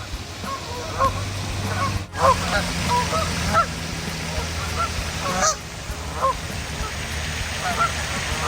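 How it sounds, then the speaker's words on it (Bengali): A flock of geese honks repeatedly from a pond in the United States, many overlapping calls scattered throughout over a low, constant background rumble. "এই যে পাখিগুলো ডাকছে"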